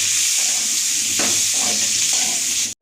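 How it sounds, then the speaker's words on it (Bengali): Diced potato cubes frying in a pan with a loud, steady sizzle. There are faint stirring scrapes, and the sound cuts off abruptly at the very end. "এবার আলুটা একটু ভেজে নিই ভালো করে"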